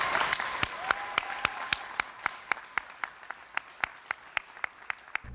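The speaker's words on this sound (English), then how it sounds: "clap into the microphone as if you don't understand how microphones work" Sharp, evenly spaced claps hit close to a microphone, one person clapping steadily over a soft wash of crowd applause.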